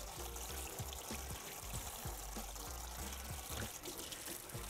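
Tap water runs steadily from a faucet while hands are rinsed, a continuous rushing splash with faint dribbling changes, moderately quiet and close, with no voices.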